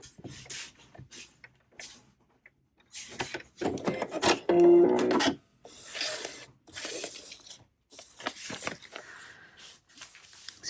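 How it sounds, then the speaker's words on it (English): A sewing machine stitches fabric onto foundation paper in a few short bursts of rapid mechanical whirring, close and moderately loud, separated by brief pauses. "And we're going to just sew on the paper."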